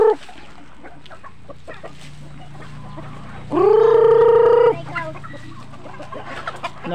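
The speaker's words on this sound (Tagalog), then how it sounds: "Chicken" Backyard chickens cluck in scattered short calls, with one louder, drawn-out squawk in the middle, all fairly close and with no talking.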